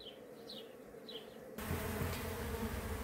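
Honey bees humming at an open hive of a breeding colony, a dense continuous buzz with a few individual bees darting close by, the drone growing louder and fuller partway through.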